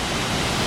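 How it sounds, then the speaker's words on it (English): A big waterfall in the Niagara Falls area roars steadily and close by, a dense wall of rushing water with no pause and no voices. "that is what you would call, or I would call, an impressive waterfall"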